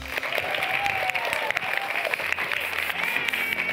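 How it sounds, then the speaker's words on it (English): A small audience breaks into applause at the close of a lesson, a few seconds of scattered, fairly soft clapping with some light crowd murmur beneath it. "Everybody give Dustin a huge round of applause."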